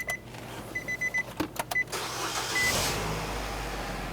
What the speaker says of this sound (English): we're going to go ahead and start the vehicle, and we're going to let it run until that fuel is drained out of the fuel system